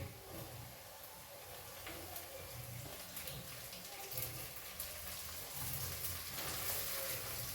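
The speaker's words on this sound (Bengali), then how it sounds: "এবার আমি দিচ্ছি কাঁচা লঙ্কা কুচি।" Steady soft sizzling and frying hiss from a small-fish curry with tomato as chopped green chillies go in, low and continuous throughout.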